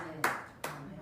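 A church congregation claps in two short bursts of applause, each a sharp onset fading quickly, spaced apart in a reverberant hall.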